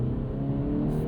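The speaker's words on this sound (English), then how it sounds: "See that there? That rev hang?" A 2026 Acura Integra A-Spec engine holds a steady, close drone while the revs hang after a downshift, a continuous whirring hum with no break.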